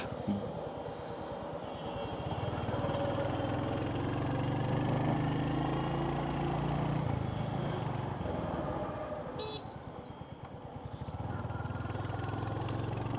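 A Royal Enfield Hunter 350 motorcycle engine runs steadily nearby with a deep, even thump that swells slightly in the middle and eases back toward the end.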